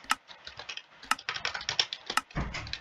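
Rapid clattering keystrokes on a computer keyboard while playing Bed Wars in Minecraft, uneven bursts of clicks with a few louder key hits, close and alone without talk.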